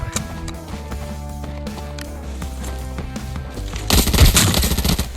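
Automatic rifle fire in the shooter game Arena Breakout, a loud dense burst near the end over a steady layer of game music and ambience.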